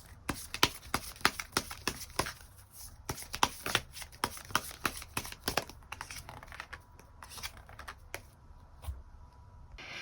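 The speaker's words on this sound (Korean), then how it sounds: "추가 카드 뽑아보도록 하겠습니다" Tarot cards being shuffled and drawn for a reading, a run of quick papery flicks and riffles in irregular bursts, fairly close and moderately loud, with no talking over them.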